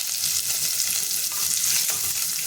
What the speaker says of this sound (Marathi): हे आपल्याला परतून घ्यायचे